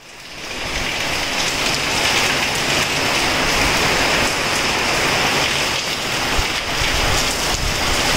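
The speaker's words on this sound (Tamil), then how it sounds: "மழை பார்த்தீங்கன்னா அப்படியே சட சடன் ஓங்கி வந்துச்சு" Heavy rain pours down steadily in a dense, close, continuous hiss and patter that stays loud from start to finish, with no voices over it.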